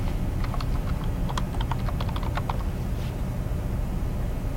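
Steady typing on a computer keyboard, a quick run of light, clicky keystrokes in irregular bursts over a constant background hiss, with no voices.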